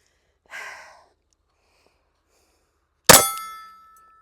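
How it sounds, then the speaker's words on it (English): A single sharp Glock 19 Gen 6 pistol shot rings out loud and close, its report decaying over about a second, after a brief soft breath-like rustle and a stretch of silence. "And let's shoot."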